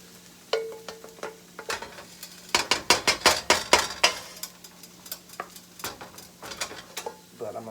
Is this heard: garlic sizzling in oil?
yes